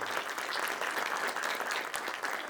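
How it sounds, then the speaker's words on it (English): Town hall audience in an old movie theater applauding Congressman Alex Mooney, a continuous roomful of clapping with no speech over it. "Let's give him a round of applause for coming down here."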